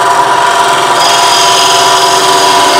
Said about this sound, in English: I can remove a large portion of that with my bowl gouge.